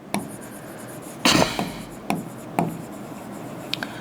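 A pen writes by hand on a surface in a few short scratchy strokes, one longer scribble followed by several brief separate marks, close and clear with no talking.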